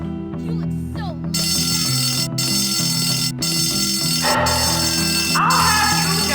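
Fire alarm ringing loudly and continuously as a bright, steady metallic bell, with brief interruptions, over layered music and other sound.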